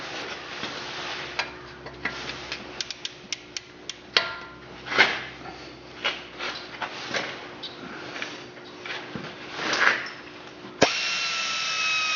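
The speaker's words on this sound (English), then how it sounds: "grab a ratchet and a 15 or 14 mil socket and remove your steering stop." Ratchet with a 14 or 15 mm socket removing the steering stop bolt on a Jeep Wrangler, a rapid string of close, crisp clicks in uneven runs with short pauses, no speech.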